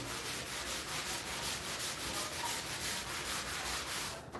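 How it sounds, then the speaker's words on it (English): An abrasive sanding sponge's rough side scrubs a sparkly finish off a painted surface, like wet sanding, in a steady run of rhythmic back-and-forth rasping strokes, loud and close, with no talk. "Kind of rub it off, but I like to use the aggressive side to take that off. It's almost like wet sanding."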